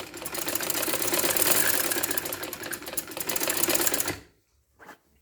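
A sewing machine stitches all the way around a kameez in one continuous close rattling run, then stops abruptly, followed by a brief soft knock.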